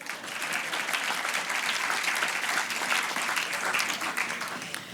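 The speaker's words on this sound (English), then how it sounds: "Give her another round of applause." Audience applause at a Haringey education awards ceremony in 2013: dense, sustained clapping from a large crowd, steady and loud across the whole stretch with no voices over it.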